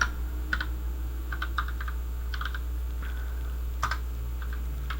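A word being typed into a spreadsheet cell on a computer keyboard: short clusters of light key clicks, close and quiet, with steady background hum and no talking.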